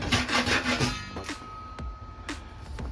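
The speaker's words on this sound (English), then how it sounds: "I already scraped part of this whole wall. I'm just removing whatever is loose only." Scraping loose wallpaper off a wall, a rapid rhythmic rasping at first, then slower separate scrapes and a few sharp strokes, close by and fairly quiet, with no talk.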